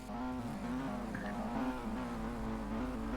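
A race car engine idles and revs steadily at the start lineup of a stock car championship round, a loud, continuous throaty drone that swells and eases slightly.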